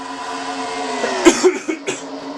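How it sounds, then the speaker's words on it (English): A few harsh coughs burst out in quick succession, close and fairly loud, with a short throaty break between them. "Sorry I got the coughs here."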